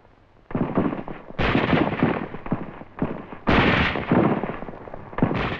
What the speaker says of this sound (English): bazookas fire on Jap tunnel positions at hill number one.